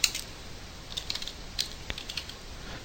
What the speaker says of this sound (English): I'm going to just go ahead and type this in manually.